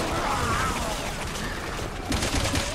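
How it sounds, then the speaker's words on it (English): Gunfire in the video game Resident Evil 6 comes as a cluster of sharp shots over game ambience, with a heavier burst of impacts near the end. "I haven't seen zombies react like that to gunfire before."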